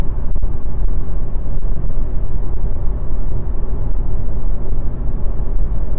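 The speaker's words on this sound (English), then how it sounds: "Wind noise and tire noise will increase now for sure. 120 kilometers per hour." Steady wind and tire roar inside a VW e-Golf cruising at 120 km/h, a loud, dense, even rumble from start to finish, no voices.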